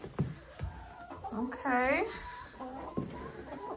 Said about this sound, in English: coming in to check on the chickens